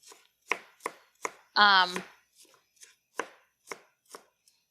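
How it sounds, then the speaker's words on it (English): A knife chops through bok choy greens on a cutting board in several crisp, evenly spaced strokes, with one longer scraping slice in the middle, close and clear with no talking. "So we're just going to take the bok choy, just like greens if you cook them at home or cabbage, and cut them."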